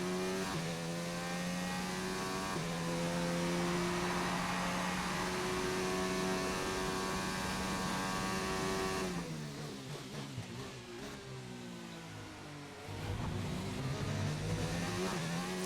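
A race car engine in the F1 2019 video game laps the Austrian circuit, holding a steady high-pitched drone that drops as it brakes into a final corner, then climbs again on acceleration, loud and continuous with no talk.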